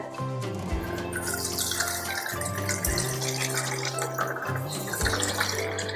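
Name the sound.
draining soaking water from rice through a strainer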